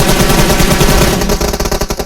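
Gunfire in the battle royale game PUBG, a loud, rapid automatic burst of shots rattling continuously and then breaking into uneven separate shots, with no talk.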